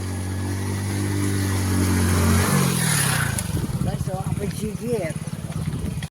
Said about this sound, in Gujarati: અને બીજું બાઇક આવે